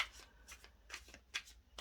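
Tarot cards are shuffled by hand in a close, quiet series of quick riffling bursts, about five separate shuffles in under two seconds with brief pauses between them.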